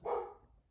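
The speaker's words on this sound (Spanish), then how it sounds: "El perro ladrando." A single dog bark, fairly faint and at a distance, rings out once and fades quickly, with no talking around it.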